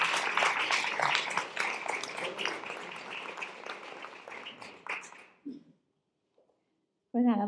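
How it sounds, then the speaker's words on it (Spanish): A seminar audience applauds a speaker being welcomed to the stage, dense clapping filling about five seconds before fading into near silence, with a voice starting up at the very end. "un aplauso para Estefanía"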